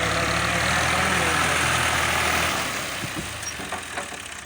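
A Ghazi tractor levels farmland flooded with water, its engine a steady, fairly loud low rumble that eases off slightly toward the end, with a voice faintly audible nearby.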